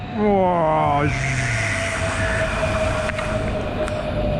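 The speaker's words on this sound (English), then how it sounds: "And then another train is approaching like this." A train rolls in on an elevated railway track above buildings in a Chinese megacity, a steady loud rumble with a sustained tonal whine and rising pitched tones at the start as it approaches close by.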